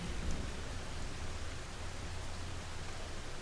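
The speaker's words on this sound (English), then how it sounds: "Listen to the sound of the rain" Steady, dense rain hisses evenly throughout, a continuous wash of falling water with no voices.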